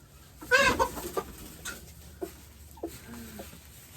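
Chickens cluck close by at a chicken coop, a burst of squawking clucks followed by a few softer scattered clucks against a quiet background.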